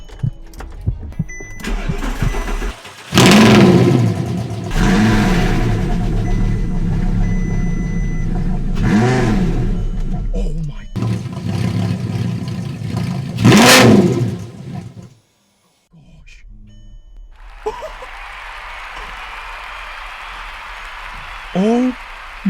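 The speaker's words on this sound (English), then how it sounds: "That cold start was insane." A wrecked Audi R8 V10 fires up on a cold start and is revved hard in loud bursts, the engine bellowing up and down before dropping off, with excited voices around it.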